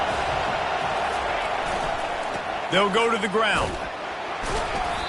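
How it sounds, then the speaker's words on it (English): Stadium crowd noise in College Football 25: a steady roar of fans runs throughout, with a commentator talking over it for a moment near the middle. "this crowd trying to help keep them there"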